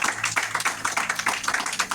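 A church congregation claps in a quick, rhythmic beat, close and loud, keeping a steady pulse throughout.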